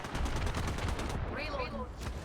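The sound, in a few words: gunfire in a video game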